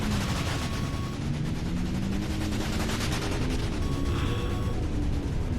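An enemy craft in the H.A.R.V.E.S.T.E.R. demo fires missiles in a continuous, dense barrage of loud repeated blasts and mechanical rattling, steady for the whole stretch without talk.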